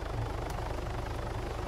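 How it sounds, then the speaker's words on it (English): A helicopter's rotor chops steadily and loudly in the video game ArmA 3, its rhythmic thumping and engine whine continuous throughout. "Helicopter coming over"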